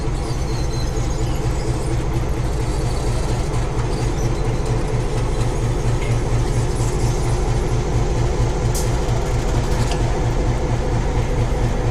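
A locomotive pulls a train, rumbling steadily along the rails with a rhythmic clickety-clack and a low engine drone, loud and close throughout, with a brief high squeal near the end.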